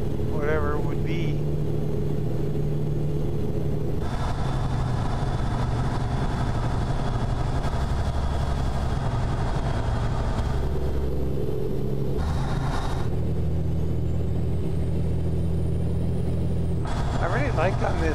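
A Mayflower K100E moving truck in American Truck Simulator runs with a steady, heavy diesel rumble and engine drone. The sound carries on throughout and shifts in tone as the camera view changes, and someone talks over it.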